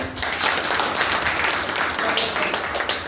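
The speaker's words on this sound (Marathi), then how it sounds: "सर्वजण एकदा परत एकदा त्यांचे टाळ्या वाजून" Steady applause from a crowd at a village council prize function, a dense patter of many hands clapping continuously at moderate loudness.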